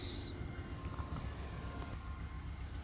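A train locomotive revs up while moving slowly along the track, a low steady rumbling drone with faint hiss, heard from a short distance with no talk.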